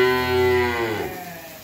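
An eight-month-old heifer calf on a farm lets out one loud, close moo lasting about a second, then trails off into quiet.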